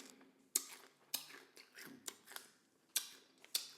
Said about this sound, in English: That was a really crunchy piece.